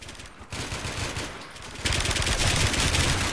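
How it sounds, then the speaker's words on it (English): Rapid, continuous automatic gunfire from the video game Warmode, loud and dense throughout, intensifying into a heavier burst of shots in the second half. "I just shot you like 20 times."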